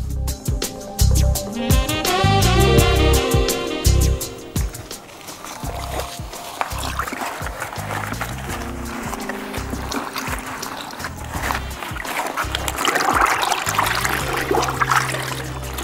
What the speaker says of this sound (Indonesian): Untuk pencelupan pertama biasanya aku bilas dengan air biasa dulu biar kain posisi basah